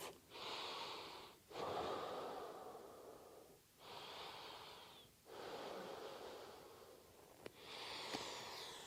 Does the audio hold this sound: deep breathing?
yes